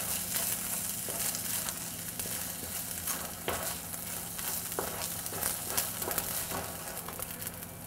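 Steady, loud sizzling of soaked glutinous rice frying with garlic and oil in a pan, with occasional scraping stirs and crackles running throughout, no voices.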